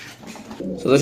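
Teddy pigeons coo softly and briefly in a low, throaty burble, growing a little louder toward the end.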